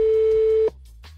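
A Renault R-Link car infotainment system gives a steady electronic phone call tone, one unbroken beep lasting about two-thirds of a second before cutting off, followed by near silence.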